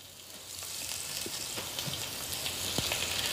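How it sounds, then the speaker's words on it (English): Pork chops sizzling in a hot skillet, a steady hissing crackle that builds slightly louder with occasional sharp pops of spattering fat. "And then you want to add your pork chops to your skillet."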